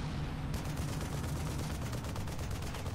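Dense, rapid gunfire crackles from behind in the video game Frontlines: Fuel of War, a loud continuous fusillade of overlapping shots over a heavy low rumble, with no talking.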